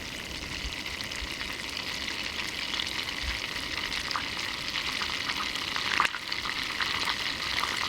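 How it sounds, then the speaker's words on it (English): Butter melts in a pan, foaming and bubbling with a steady, close sizzle and crackle that builds slightly and holds throughout, with no voices. "you're gonna get loads of foam and loads of bubbling noises right now"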